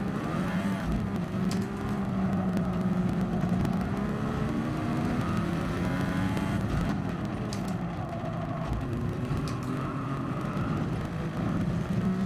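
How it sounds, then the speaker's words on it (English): Race car engines in the video game Gran Turismo Sport drone and whine steadily for the whole stretch, a dense layered mechanical hum with gentle shifts in pitch and no voices. "Car noises still need tweaking because I can still hear theirs over mine."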